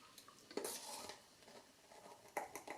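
A spoon stirs plain flour and baking powder in a bowl, giving faint soft scraping broken by a few sharp clinks of metal against the bowl, close by and quiet.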